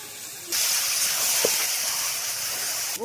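Egg and boiled dal hit a hot pan, setting off a sudden loud hiss of steam and sizzling that stays steady and close until the end.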